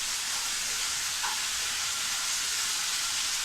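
Ivy gourd stir-fry being stirred in a pan for kovakka mezhukkupuratti, a steady bright sizzle and frying hiss running evenly throughout, with a faint scrape of the stirring utensil partway through and no talking.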